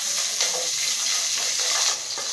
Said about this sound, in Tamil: பச்சை மிளகா, வெங்காயம், வெள்ளைப்பூண்டு இதையும் சேர்த்து வதக்கிடலாம்